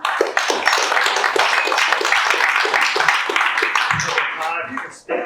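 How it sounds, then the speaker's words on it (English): An audience at a magic show claps loudly and continuously for a volunteer coming on stage, dense applause that tapers off near the end, with voices mixed in. "Give him applause."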